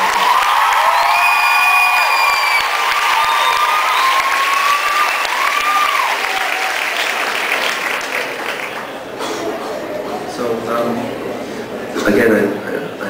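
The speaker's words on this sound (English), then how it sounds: "Let's just have a round of applause for those girls and what they've been able to do here before that." Concert crowd applauding and cheering with whoops and shouts, loud at first, then thinning out while some people talk near the end.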